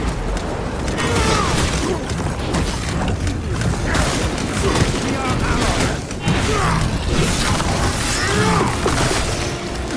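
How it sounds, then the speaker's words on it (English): In the Space Marine 2 video game, a grenade is thrown and goes off. Dense booms and crashes sit within continuous loud combat noise, with clattering mechanisms and repeated blasts across the whole stretch. "Throwing stone grenade"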